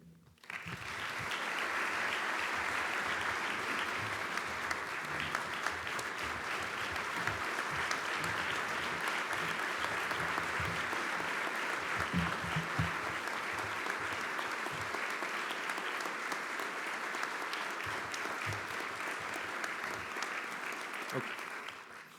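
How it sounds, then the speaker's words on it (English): A large audience at a Coast Guard address applauds the 25th Commandant as he reaches the podium, sustained clapping that swells quickly and holds steady for about twenty seconds, with a few voices mixed in. "You should be applauding"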